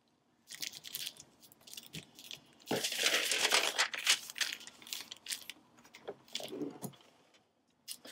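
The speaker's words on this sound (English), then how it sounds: "we'll peel off the liner" Someone peels the plastic liner off a Cricut Infusible Ink transfer, with crinkling and tearing rustles that come in close bursts, a longer loud peel in the middle, and quiet gaps between.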